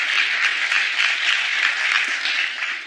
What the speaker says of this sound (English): But you can clap for the next girl.